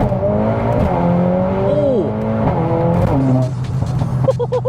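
A Mercedes-AMG A45S accelerates hard, its engine note climbing and then dropping sharply through several quick gear changes, loud and close with a steady roar throughout.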